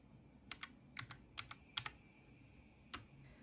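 Keys clatter on a Royal Kludge RK837 mechanical keyboard while macros are recorded: a sparse run of sharp, close clicks in small clusters over a faint hum, with no speech.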